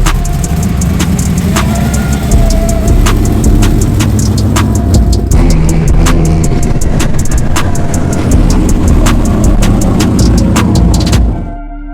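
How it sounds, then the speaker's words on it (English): The turbocharged LS-swapped Cash Racing G37 drift car roars at full throttle for a long, loud stretch on a street circuit, with a steady engine drone punctuated by rhythmic turbo and limiter pops before it cuts off sharply. "The Cash Racing turbocharged LS G37 coming into view here of the judges"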